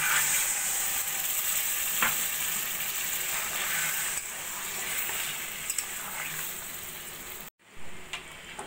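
Pointed gourd (potol) masala sizzles steadily in a pan as water is added, a loud, continuous frying hiss with faint stirring clatter, ending in a brief cut and quieter bubbling.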